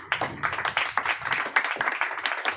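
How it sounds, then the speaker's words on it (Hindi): Audience at an RCM meeting clapping loudly, a dense run of many hands applauding steadily for a couple of seconds, close and fairly loud with no talking over it. "एक बार अपने लिए जोरदार ताली।"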